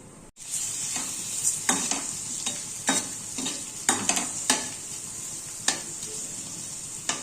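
Steady sizzle of a tempering of spices frying in hot oil, with intermittent scraping and stirring knocks of a spatula against the pan.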